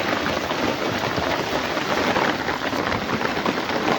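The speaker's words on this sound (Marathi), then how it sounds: "पाऊस चांगला चालू आहे, पाऊस चांगला चालू आहे." Steady heavy rain pattering on surfaces at a farm during the soybean harvest, a dense, even roar that continues without pause.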